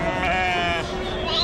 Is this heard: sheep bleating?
yes